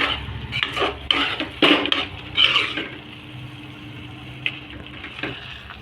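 A spoon scrapes and clanks against a pot while chicken curry is stirred, giving irregular metallic knocks and scraping bursts over a low steady background hiss, close by, with no voices.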